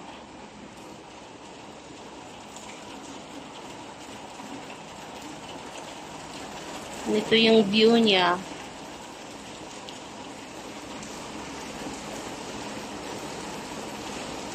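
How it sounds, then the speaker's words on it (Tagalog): Steady rain hisses continuously throughout, heard from a hotel veranda on the waterfront in Davao City, with a person briefly speaking partway through. "Umuulan dito guys."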